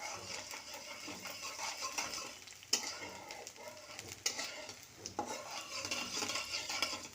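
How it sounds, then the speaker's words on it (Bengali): Mustard seeds and garlic frying in a pan for mango chutney, a quiet hissing sizzle with intermittent scraping clinks of a utensil against the pan. "আর সরিষা। এটাকে একটু সুন্দর করে ভেজে নেব।"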